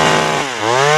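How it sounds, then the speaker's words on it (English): A chainsaw in a Family Guy cartoon scene buzzes loud and close, its motor pitch dipping briefly before revving back up to a harsh, steady whine, with no talking. "I want a chainsaw!"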